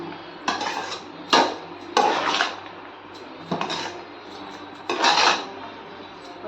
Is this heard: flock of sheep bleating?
no